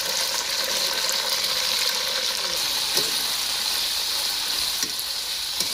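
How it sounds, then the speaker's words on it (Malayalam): Salt water is poured into a hot pan on a home cooking hearth. It sets off a loud, continuous sizzling hiss with small crackles and pops, holding steady throughout. "എന്നിട്ട് ഉപ്പുവെള്ളം കുറച്ച് ഒഴിച്ച് കൊടുക്കുകയാണ്."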